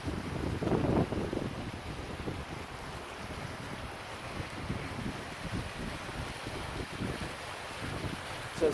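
Water pours over the spillway of a small lake at Fishtrap, Washington, a fairly strong broad rushing flow heard at moderate distance with wind buffeting the microphone throughout.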